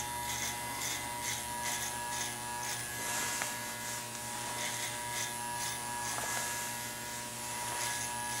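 Electric hair clipper with a number 3 guard cutting hair in a barbershop taper, a steady close buzz with faint pulsing strokes as it passes through the hair, quiet and continuous.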